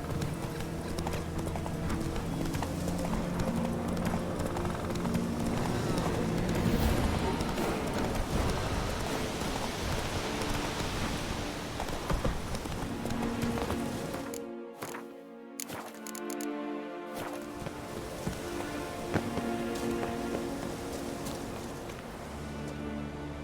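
Roach, the horse in The Witcher 3, gallops with steady, rhythmic clip-clopping hoofbeats that go on for a long stretch, close and prominent, with rain-like hiss in the background and a short break midway.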